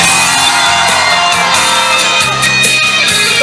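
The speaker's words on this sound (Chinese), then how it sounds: "全场的尖叫声在哪里呢？" Festival concert audience at a bridge tourism event shouts and screams in a sustained, loud roar, with overlapping high-pitched yells and whoops forming a continuous wall of crowd noise.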